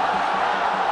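Paysandu football crowd roaring after a goal, a dense sustained stadium cheer heard briefly with a commentator's voice over it.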